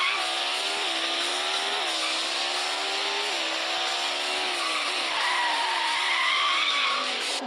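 Car skidding in the mobile driving game Extreme Car Driving: a steady, loud tire squeal over a revving engine, with the pitch wavering and sliding throughout.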